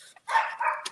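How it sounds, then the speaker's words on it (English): A dog barks a few times in quick succession, fairly close, with short sharp yips. "If you hear her barking"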